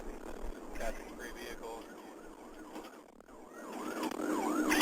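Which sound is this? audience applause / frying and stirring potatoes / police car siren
police car siren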